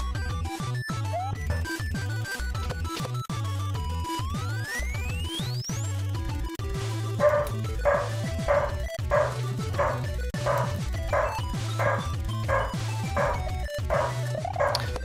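Quick, regular dog barks from a holiday romhack video game come in a steady run over looping chiptune music, each yip short and punchy.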